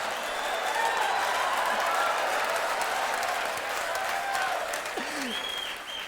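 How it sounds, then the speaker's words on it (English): Married men in a live comedy audience clapping: sustained, moderately distant applause with a few voices and whoops mixed in, fading slightly at the end. "the married men are clapping on that one"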